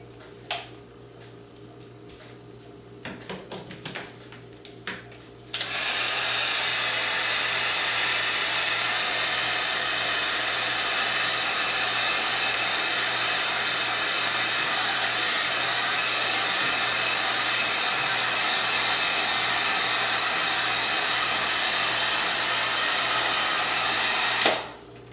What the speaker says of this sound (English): But use a heat gun. 800 degrees is the minimum that you want.